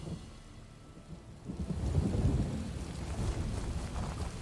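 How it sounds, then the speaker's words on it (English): Heavy rain pours steadily in a stormy outdoor scene in The Elder Scrolls Online, with a deep rolling rumble of thunder building and lingering across the clip, no voices. "I could do without this damnable rain. It's been storming since we arrived"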